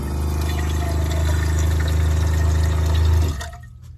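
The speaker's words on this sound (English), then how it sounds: "I take some water out of my sink." Water is drawn from a small sink in a minivan camper into a hanging pan, a steady running and filling sound with a low hum beneath, close by, stopping abruptly near the end.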